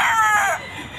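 A rooster at a pet market in San Jose del Monte, Bulacan, crows once, a short, loud, nearby call that falls off after about half a second, with faint market noise behind it.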